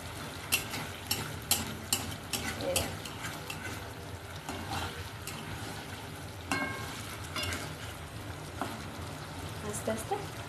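Fish pieces are stirred in a pan of mustard sauce, giving soft sizzling and repeated scraping strokes at a steady rhythm. A few louder knocks of the utensil stand out, and a voice speaks at times.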